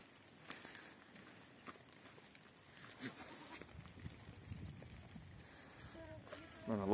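Goats bleating on a goat farm, scattered calls at low level among background voices and farmyard noise, with a louder bleat near the end.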